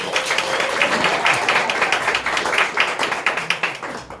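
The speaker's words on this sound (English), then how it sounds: "Applause to get them going, please." Studio audience applause at an improv comedy showcase: a brisk, dense burst of many hands clapping near the listener, thinning into a few scattered separate claps at the end.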